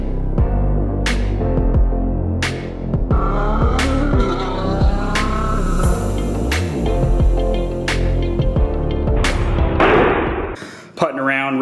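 A 2019 CSC TT250 motorcycle is ridden, its single-cylinder engine loud and steady with rising and falling revs and gear changes throughout, ending in a brief drop near the close.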